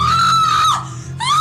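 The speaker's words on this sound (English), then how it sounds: "SWAT operatives follow the screams to the master bedroom" A frantic woman screams from a master bedroom during a SWAT entry, a loud, sustained high-pitched cry that briefly drops off and then resumes, with no talk over it.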